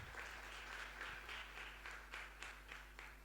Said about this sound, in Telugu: ఉన్నవారం అందరం ఒకసారి చప్పట్లు కొట్టి దేవుని మహిమపరుస్తాం.